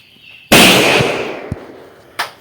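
Firecrackers go off for a small New Year celebration: one loud, close burst with a long crackling tail, then two sharper pops a moment apart.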